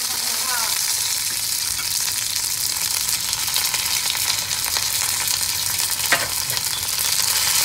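Mustard seeds and curry leaves sputtering in hot oil for South Indian temple-style curd rice, a loud, continuous crackling sizzle up close with a brief sharp clatter partway through.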